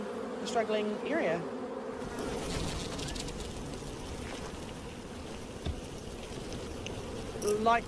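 Honeybees buzzing steadily throughout, a dense continuous insect drone with a few louder close passes near the start and end, in a manuka honey apiary setting in New Zealand.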